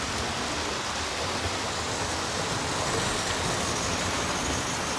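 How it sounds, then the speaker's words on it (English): A Hornby model HST train runs through a model railway layout, giving a steady, dense whirring rumble that holds evenly from start to finish with no voices. "And HST storming through there."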